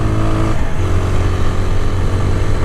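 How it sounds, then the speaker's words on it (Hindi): A 2026 TVS Apache RTR 160 4V motorcycle accelerating in third gear from low speed, its engine holding a steady, close mid-pitched drone that rises gently, with no talking over it. "तीसरा गियर पे मैं अगर 30 पे भी अगर मैं थ्रॉटल को ओपन करता हूँ, तो वो ग्रेजुअली अपने पावर को जो है डिलीवर करता है"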